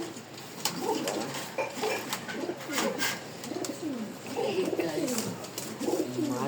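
Pigeon cooing in soft, repeated throaty phrases close by, steady across the stretch with faint clinks in the background and no talk.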